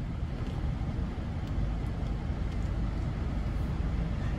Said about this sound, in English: And the engine's very quiet.